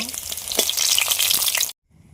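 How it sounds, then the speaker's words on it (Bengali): Kuli pitha, a sweet made from flour, frying in hot oil gives a dense, bright sizzle with stirring scrapes, close and loud, then cuts off abruptly into near silence. "এভাবে নেড়ে চেড়ে অল্প টাইম ভেজে নেবেন"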